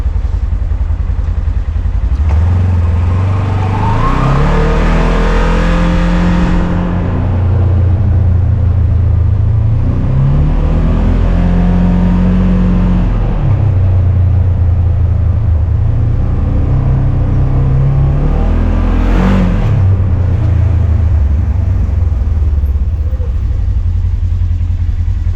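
A side-by-side utility vehicle drives along, its engine droning loud and close throughout with a rising and falling pitch as it accelerates and eases off, plus some rattling and clatter over rough ground.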